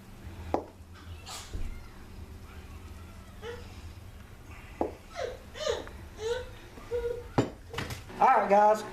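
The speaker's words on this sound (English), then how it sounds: "dumping all my ingredients into 9x13 pan" Broccoli, rice and cheese casserole ingredients being dumped into a 9x13 pan, with soft clatters, scrapes and clinks of utensils and dishes scattered among a person talking.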